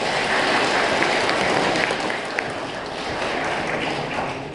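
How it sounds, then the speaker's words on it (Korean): Wedding guests clap in a continuous, dense wash of applause that fills the hall at a steady level, with no speech over it, after the bride's father is introduced at the ceremony. "자, 여러분 큰 박수 부탁드리겠습니다."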